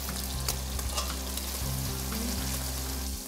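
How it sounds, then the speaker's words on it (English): Beef short ribs searing in a pan with a thin layer of hot oil and melted butter, giving a dense, continuous close sizzle with faint clicks, under a low steady hum, no talking. "Once that's melted, add the short ribs right away."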